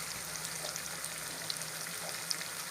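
Long-sliced onions sauté in a pan for a chilli mealmaker dish, a faint, steady sizzle with soft crackles close by and no voices.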